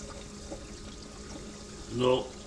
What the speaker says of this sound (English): I gotta put some RO water in here.